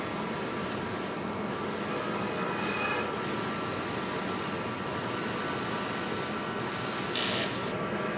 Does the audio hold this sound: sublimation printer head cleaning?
yes